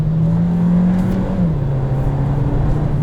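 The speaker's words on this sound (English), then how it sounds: "you have a sport mode as well as a manual mode. Downshifts are done very smoothly" A Kia Seltos engine holds a steady, close drone while driving, then its pitch shifts briefly as the gearbox changes gear, settling back into an even hum with no talk.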